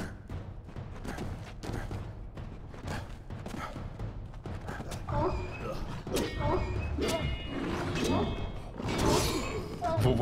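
Dogs bark in the Kingdoms of Amalur Re-Reckoning video game, short barks scattered through a busy mix of game effects, clanks and ambience, with some talk underneath.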